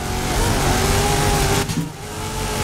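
A car engine in Forza Horizon 5 revs hard and steadily while the car drifts, loud and continuous, then dips briefly near the end before building again; no one speaks.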